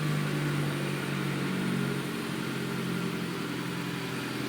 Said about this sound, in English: That whining noise, by the way, is the fuel pump